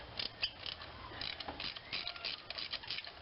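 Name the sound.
3/8 inch ratchet loosening spark plug on Hyundai Sonata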